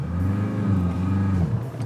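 A car engine drones steadily and close, its low note holding firm and shifting slightly near the end, while the car is driven out in the cold toward a field in Luxembourg.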